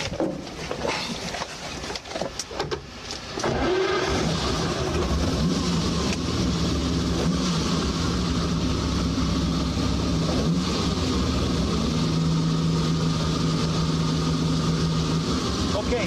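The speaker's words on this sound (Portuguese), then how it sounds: "Podemos ligar o carro." A Ferrari 250 racing car's engine fires after a burst of clattering handling sounds, then settles into a steady, loud, droning idle that holds unbroken to the end.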